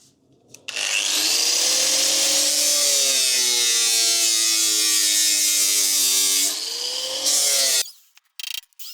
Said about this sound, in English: so let's just get the grinder out.